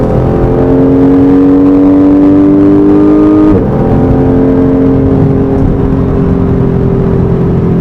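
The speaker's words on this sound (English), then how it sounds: "There's just nothing quite like a naturally aspirated, you know, flat six." Naturally aspirated flat-six of a Gulf Blue 2014 Porsche 911 GT3 accelerating hard out of a turn, loud close engine with rising tone, a brief dip around the upshift, then climbing again.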